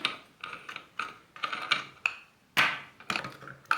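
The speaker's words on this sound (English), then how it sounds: "with this key you can just unscrew" A lock key unscrews the flange nut holding the disc on a Parkside Performance 20V cordless angle grinder, giving a series of close, sharp metallic clicks and ratcheting knocks at irregular intervals with no talking.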